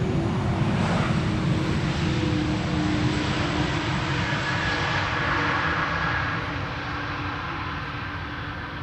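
A KLM Airbus A330 at Amsterdam Schiphol Airport fills the air with a loud, close jet engine roar and a faint whine, holding steady before easing off gradually toward the end.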